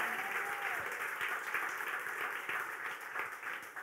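A sermon audience applauds and cheers for Christ, a steady, even roar of many hands clapping that fills the room, fading slightly at the end.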